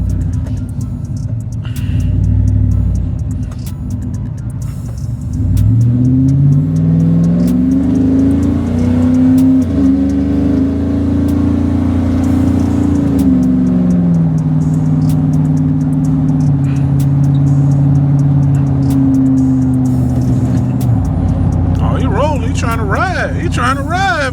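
A 1986 Pontiac Parisienne on 22-inch Luxor spoke wheels, its engine rumbling close up and revving with rising and falling pitch as it drives and accelerates, loud and continuous, with brief talk near the end.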